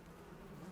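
Flies and mosquitoes buzzing inside a house, a faint, steady insect drone that holds without a break and with no voices over it.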